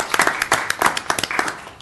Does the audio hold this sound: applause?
yes